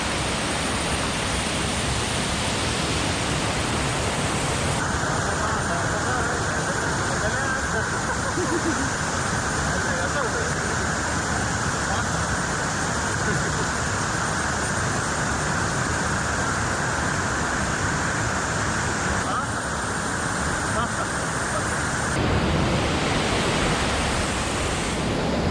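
Manalar waterfall in a forest setting, with water crashing down and swirling through eroded rock pools as a continuous, loud, broadband roar that holds steady throughout.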